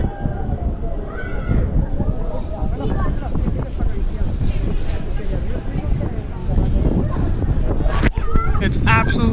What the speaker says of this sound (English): As you can probably hear, it's super windy